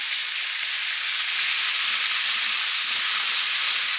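Carrots and peppers sizzle hard in hot oil in a pan, a steady, loud, bright hiss that holds evenly from start to end with no talking.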